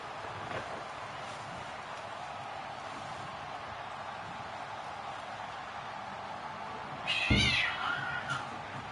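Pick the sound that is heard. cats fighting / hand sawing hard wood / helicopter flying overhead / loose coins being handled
cats fighting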